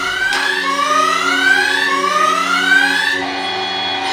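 A wailing electronic siren on a vehicle with flashing lights sweeps up and down repeatedly, loud and close, with a steady rising-falling pitch pattern, during an active shooter drill at a shooting range.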